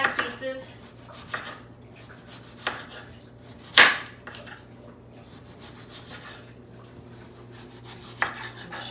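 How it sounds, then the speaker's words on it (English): A knife chops potatoes into bite-sized pieces on a cutting board, a few scattered sharp knocks with one louder strike, quiet kitchen room tone between. "as I chop the vegetables and the potatoes, I'm gonna drop them in here"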